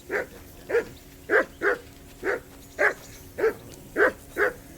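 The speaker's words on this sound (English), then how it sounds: "That barking was a pain in the ass." A dog barks repeatedly in Kingdom Come Deliverance 2, roughly ten evenly spaced, moderately loud barks in a steady rhythm with no talking over them.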